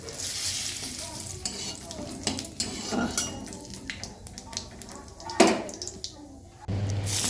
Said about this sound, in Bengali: তেলটা গরম হয়ে গেলে এবার আমি এর মধ্যে গোটা জিরে দিয়ে দিলাম ফোড়নে দুটো গোটা শুকনো লঙ্কা দিলাম আর দুটো তেজপাতা